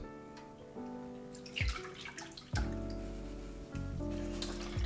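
Liquid pours and splashes into a blender in a few separate bursts, with bubbling and sloshing between pours, close by and fairly quiet.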